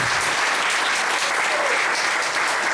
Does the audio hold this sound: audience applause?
yes